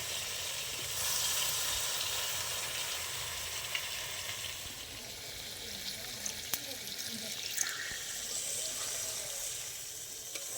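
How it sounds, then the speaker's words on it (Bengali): Water poured into egg biryani gravy in a hot pan, giving a steady sizzling, bubbling wash of sound at close range with a few small clinks, holding even throughout. "এবার গ্রেভিটা ভালো করে ফুটানোর জন্য অল্প করে জল দিয়ে দেবো"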